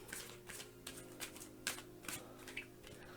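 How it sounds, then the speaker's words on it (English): Tarot cards being shuffled by hand, a run of soft riffling and papery flicks repeating close up over a quiet background, with no talking. "So I'm going to shuffle."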